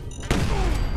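Gunfire in Fallout 4, a sudden loud burst of shots erupting after a brief quieter stretch, then a dense sustained roar of fire and booms close by.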